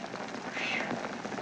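Steady rain falls outside in an outdoor pioneer setting, a continuous soft hiss and patter close by with no other distinct sounds.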